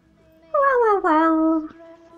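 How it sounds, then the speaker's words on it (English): A dog whimpers in Dishonored 2, a close, high, wavering whine that rises and then slides down over about a second, with a brief break in the middle before it trails off. "Hush, little dog, don't you cry."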